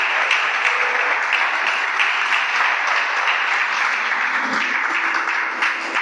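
A church congregation bursts into loud, dense applause that holds steady for several seconds, close and continuous with no talking over it.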